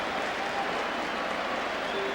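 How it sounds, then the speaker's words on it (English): A football crowd at a 1983 match applauding a goal against Leicester City: a steady, even wash of distant clapping and crowd noise filling the stadium, with no clear peaks. "The crowd applaud him as much in relief as anything else."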